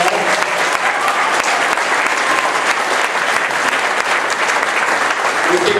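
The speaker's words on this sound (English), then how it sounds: "Give her a hand of applause." Sustained audience applause for a woman band leader at a Chanukah community event on Beacon Hill, a dense, steady roomful of clapping that stays loud and even throughout with no pauses.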